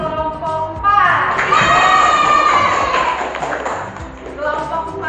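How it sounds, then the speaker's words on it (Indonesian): Students in a classroom clap for group 4, a dense burst of applause mixed with cheering voices and a few thumps, swelling after a moment and then tapering off. "Beri tepuk tangan untuk kelompok 4"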